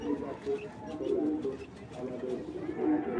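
Racing pigeons coo softly in repeated low, warbling phrases while someone talks over them nearby.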